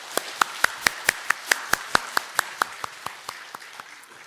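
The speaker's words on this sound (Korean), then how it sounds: "박수로 한번 격려하겠습니다" A church congregation claps together during a Korean service shortly before Christmas, encouraging the choir: about eighteen crisp, evenly spaced claps in a steady unison rhythm, fairly close, tapering slightly toward the end with no talk.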